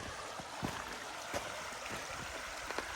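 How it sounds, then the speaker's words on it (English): Stream water running beside a forest trail in Hoosier National Forest, a faint, steady burbling wash with a few soft splashes and no talking. "Definitely plenty of running water everywhere if you were going to spend the night out here."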